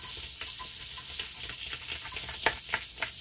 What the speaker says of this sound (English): Alright, so now I'm gonna add my garlic.